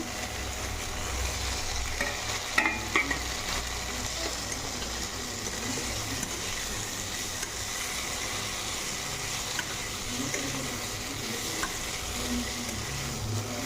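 Pointed gourd fries in spice masala in a pan, giving a continuous sizzle with occasional scraping stirs, steady and close, with no talking.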